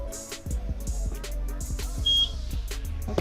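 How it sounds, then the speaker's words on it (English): A EufyCam 3 security camera gives a single short, high electronic sync beep after its sync button is pressed, clear above low background noise and handling sounds. "Okay, I heard a beep."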